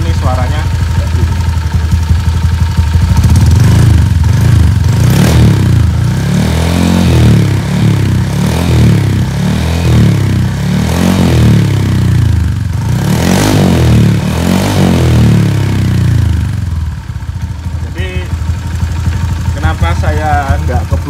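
Honda Vario 4-valve scooter with a stroked-up engine and an R9 Alpha header feeding an R9 silencer, revving in repeated rising and falling bursts near the microphone, loud and steady with a rough idle between blips.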